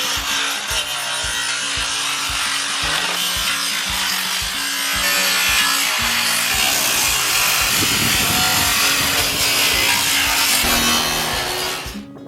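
A power saw cutting the top section of metal roofing panels during installation, a loud continuous grinding rasp throughout with a steady low hum, no talk.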